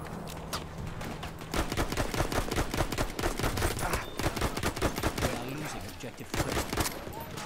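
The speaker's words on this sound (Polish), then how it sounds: "ostatnim strzałem chyba mnie zabił" Rapid bursts of gunfire from the video game Battlefield 1 in Conquest mode, sharp cracks repeating densely through most of the stretch over a constant battle din, with a player's voice talking briefly.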